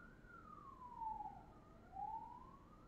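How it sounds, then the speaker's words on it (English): An ambulance siren wails in a slow rising and falling sweep, moderately distant, with steady background noise and no talking. "Now this ambulance is going around."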